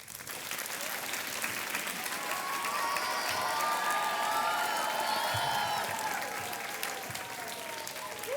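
A studio audience on a TV quiz show breaks into sustained applause, a thick, even wash of clapping with faint cheers mixed in that carries steadily throughout.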